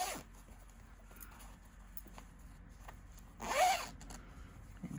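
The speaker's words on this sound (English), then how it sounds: "it's got a concealed zip" A concealed zip on a small item is pulled open, a quiet brief rasp near the start followed by a louder, closer zipping stroke a little past the midpoint, with no talking.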